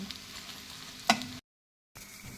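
Fish sizzles as it fries on a tava over a medium flame, a soft steady crackle with a sharp clink partway through, then a short silence before the frying resumes.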